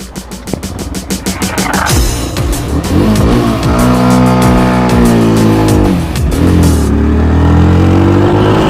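A motorcycle engine ticks over in quick regular pulses, then revs hard through several rising and falling sweeps before pulling away, loud and close throughout.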